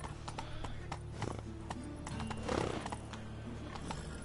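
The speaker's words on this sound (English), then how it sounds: "Run, Roach. Go, go." Horse hooves clip-clop at a steady galloping rhythm in The Witcher 3 video game, close and moderately loud, with a brief whinny and game ambience underneath.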